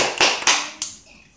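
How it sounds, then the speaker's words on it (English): Three quick, sharp hand claps, close and evenly spaced, with a small child and an adult at home. "Oh, we have to clap now."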